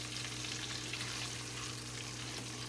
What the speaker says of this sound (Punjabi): ਹੁਣ ਥੋੜੇ ਜਿਹਾ ਇਹਨਾਂ ਨੂੰ ਆਪਾਂ ਫਰਾਈ ਕਰਨਾ ਹੈ